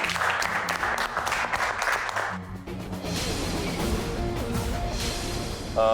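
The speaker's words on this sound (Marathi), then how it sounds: "जोरदार टाळ्या एकदा सगळ्यांसाठी" An audience claps for contest participants on a Marathi TV show: dense, steady applause for about two and a half seconds, then music takes over.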